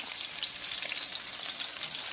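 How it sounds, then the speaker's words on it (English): Chicken thighs frying in extra virgin olive oil, a steady, fairly quiet hiss and crackle of sizzling fat without any voices. "frying up in the olive oil."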